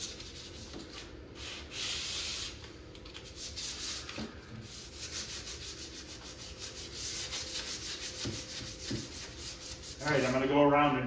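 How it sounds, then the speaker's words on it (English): Steady hand sanding by hand on an arcade cabinet, rough rubbing strokes scraping back and forth continuously at close range, with a brief louder burst near the end. "Anywhere on the cabinet where that sander couldn't get it, you're going to hand sand it."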